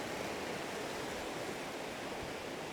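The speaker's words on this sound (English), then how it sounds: "the waves are crashing right up against it" Waves crash against a rock plateau on the Northumberland coast at high tide, a steady broad wash of surf noise, even and continuous, heard at a moderate distance with no voices.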